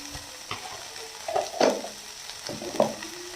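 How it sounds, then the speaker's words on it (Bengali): Oats pulao with peas is stirred in a pan, with soft scraping strokes and a faint sizzle. A few louder stirs stand out against a quiet background, and no one speaks. "ঢাকনাটা খুলে আবার একটু নেড়ে দেবো।"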